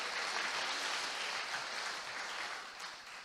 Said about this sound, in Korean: 잠깐 일어나시면 우리 박수로 환영하겠습니다